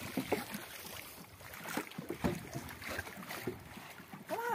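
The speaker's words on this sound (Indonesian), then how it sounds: "Menuju ke pulau Kalimantan berlayar." A boat heading across open water toward Kalimantan island gives a steady, fairly loud rush of wind and water noise throughout, with faint voices mixed in and a short voice near the end.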